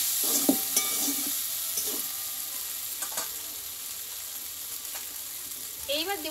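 Raw plantain frying in a pan as it is stirred, a steady sizzle broken by repeated scraping strokes of the spoon, close up with a little talk in the background.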